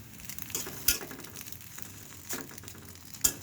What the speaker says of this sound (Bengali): এই যে আবার আমি ভেজে দেখাচ্ছি